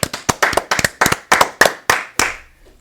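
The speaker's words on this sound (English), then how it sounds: "Let's give it a round of applause." A handful of people clap in slow, evenly spaced rounds on a sports talk show set, with about ten loud, close claps and no talk.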